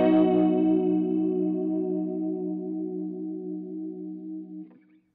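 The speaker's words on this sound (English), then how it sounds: "sounds like a normal chorus effect" One channel of a CS505 stereo chorus effect on a sustained synth chord, shimmering and slowly fading out over several seconds.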